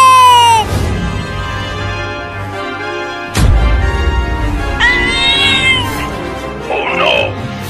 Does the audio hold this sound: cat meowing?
yes